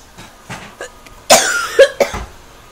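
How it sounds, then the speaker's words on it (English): A sick person coughs several times in close, sharp bursts, with three strong coughs clustered near the end after a few softer throaty sounds. "I'm coughing."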